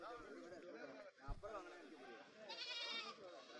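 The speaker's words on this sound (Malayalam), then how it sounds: "ഒരുപാട് വളർത്തുകുട്ടികളും മുട്ടനാടുകളും എല്ലാം വന്നിട്ടുണ്ട്." Goats bleat at a weekly livestock market in Kerala, their wavering calls rising through the background under steady nearby talking.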